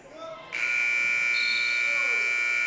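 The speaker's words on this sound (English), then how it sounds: "Buzzer at the half" A loud electronic buzzer sounds at halftime of a Lorain County Community College men's basketball game against Lakeland, a steady sustained tone that starts abruptly after a brief moment of commentator talk and holds to the end.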